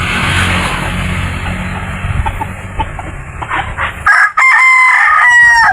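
Fighting roosters kept for breeding crow loudly and nearby, one long cock-a-doodle-doo over steady background rumble, followed by another sharp, strained crow close up.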